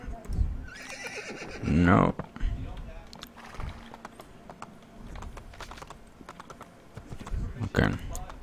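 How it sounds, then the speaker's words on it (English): A horse in the Assassin's Creed II video game whinnies loudly twice, near the start and again near the end, with hoofbeats and soft clicking in between and someone talking over parts of it. "Okay, we have a horse."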